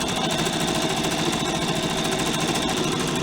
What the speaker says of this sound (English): you're just trying to sew in the very middle of that